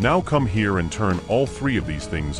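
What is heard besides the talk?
None of the usual background noises is heard.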